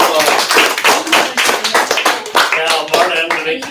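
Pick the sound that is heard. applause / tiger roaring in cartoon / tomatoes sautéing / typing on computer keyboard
applause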